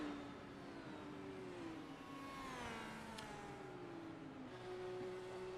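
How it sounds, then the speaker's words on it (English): Race cars at a Michigan oval in a sim racing game accelerate after a restart, a steady rising engine whine with overlapping revving tones, continuous and quite faint. "hits the gas and gets going"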